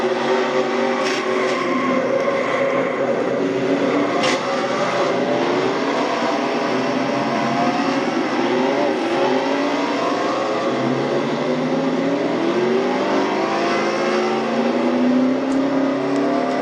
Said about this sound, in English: And Jessica's motor definitely in very bad shape